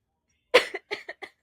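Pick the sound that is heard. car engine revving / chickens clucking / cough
cough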